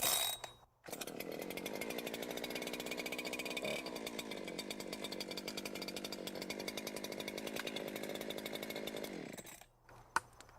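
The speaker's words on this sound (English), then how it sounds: "Once the saw is at idle, I can go about my work, release the chain brake," A chainsaw, just started, runs steadily for several seconds with a loud buzzing drone and then cuts off abruptly, heard up close with no one speaking.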